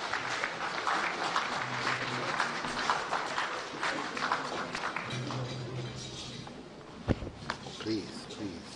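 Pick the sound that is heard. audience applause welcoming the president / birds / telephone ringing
audience applause welcoming the president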